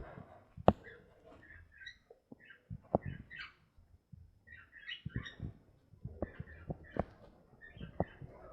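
Quiet, scattered bird chirps and short squawks indoors, mixed with soft clicks and taps.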